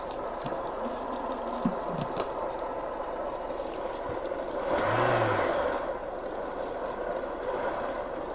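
A Thermomix food processor runs at speed 3 while making aubergine caviar, a brief whirring rise and fall for about a second in the middle over quiet kitchen background.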